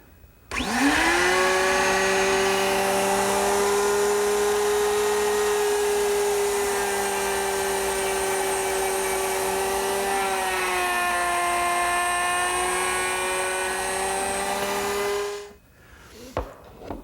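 A plunge cut making a mortise in a wooden plant stand leg: a loud, steady power-tool whine starts abruptly, holds a constant pitch for about fifteen seconds, then cuts off.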